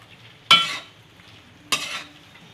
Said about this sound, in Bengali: এবার ধনেপাতার পেস্টটাকে চিকেনের সাথে ভালো করে মিশিয়ে নেব।